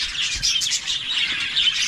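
Pet birds kept in a screened enclosure chirp and tweet continuously in dense, overlapping high calls, close and fairly loud with no talking.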